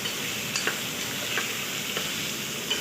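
Onions frying for khichdi, reddened in a pan, with steady close sizzling and a few light scrapes of stirring.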